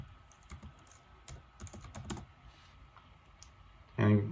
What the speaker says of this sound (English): and just type in update.